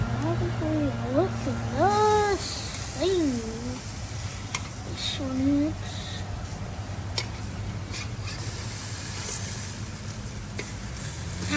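Cheeseburgers sizzle steadily on a grill as they are flipped, a continuous close frying hiss with soft scraping; a person talks over it early on, then the sizzle carries on alone.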